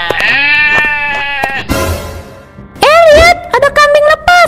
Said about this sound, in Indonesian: Lihat, ada kambing lepas.